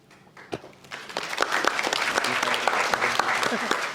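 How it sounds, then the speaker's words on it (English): Audience applause at a book launch panel session builds from a few scattered claps into steady, dense clapping that holds at a full level to the end. "let's give another round of applause for our authors"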